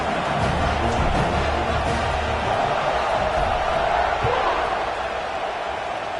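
A football stadium crowd roars loudly and continuously after a scoring drive, a dense, sustained wash of cheering with faint voices mixed in.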